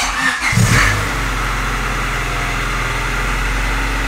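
Car engine cranking briefly and catching after the fuel pump was primed, then settling into a steady, even idle, close and fairly loud.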